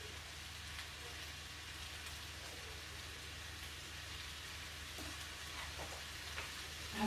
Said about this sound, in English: So we're just frying up the onions.